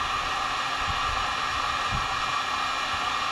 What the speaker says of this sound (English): This heating gun is pretty strong and it's not moving